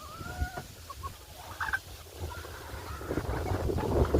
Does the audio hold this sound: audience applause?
no